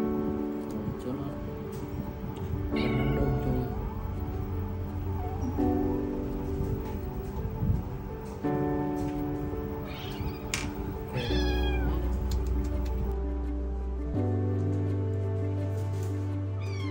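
An injured kitten that was hit by a motorcycle lets out a few scattered meows over a steady background of music and people talking.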